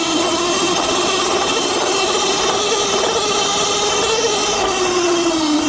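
Qronge X1 electric dirt bike climbing a slight uphill stretch at speed, a steady motor whine with a rushing wind roar, loud and continuous with no talking.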